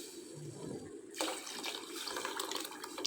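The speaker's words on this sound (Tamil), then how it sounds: "இது கூட நம்ம கரைச்சி வச்சுருக்கிற பருப்பு தண்ணியை வந்து சேர்த்துக்கலாம்." Dissolved lentil water is poured into a cooked onion and tomato mixture for a Tamil chutney, a steady close liquid pour that starts about a second in and keeps flowing over a low background hiss.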